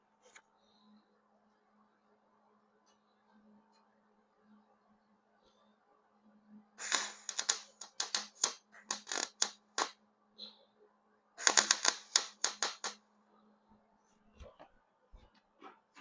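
Tack welding scrap metal pieces onto a steel washer, heard as two short bursts of loud crackling arc sputter separated by a pause, over a faint steady hum.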